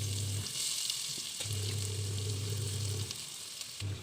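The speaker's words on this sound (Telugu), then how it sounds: "ఆయిల్ వేగాక కట్ చేసి పెట్టుకున్న ఆనియన్స్ కూడా వేసేసాను" Chopped onions sizzle and fry in hot oil in a pressure cooker pot, a steady close hiss filling the whole stretch with faint stirring scrapes.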